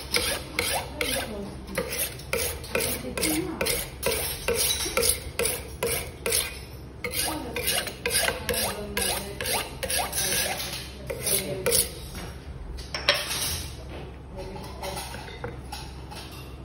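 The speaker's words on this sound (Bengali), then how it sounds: "ছুরিটাকে ধার করে নিয়েছি" Rhythmic rasping strokes of a knife being sharpened before filleting tilapia, a steady back-and-forth scraping repeated many times, close and fairly loud, with no talking over it.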